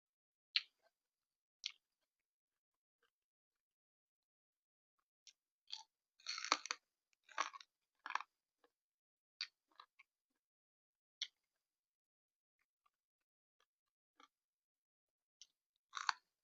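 Close, quiet chewing of a big bite of fish wrap with vegetables, a series of soft crunchy, wet bites scattered irregularly with short pauses and a busier burst of chewing in the middle.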